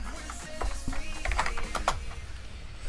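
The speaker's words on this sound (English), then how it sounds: "sorry about my keyboard, I know it's really loud." Rapid, clattering keystrokes on a loud keyboard, close and continuous with no talking.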